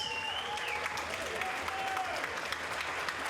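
Applause and cheering from a large crowd at a combat sports fight night fill the space, steady and dense, with a faint tonal sweep drifting over the clapping.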